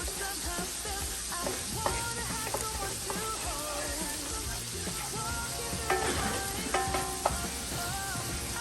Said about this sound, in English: Going to stir that around, let those marry together.